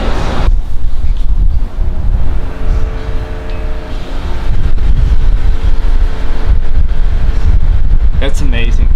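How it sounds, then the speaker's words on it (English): Strong wind buffeting the microphone in heavy, rumbling gusts outdoors while clay-barring a black Mustang GT, nearly constant and loud, with speech faintly heard underneath. "It's a little windy right now."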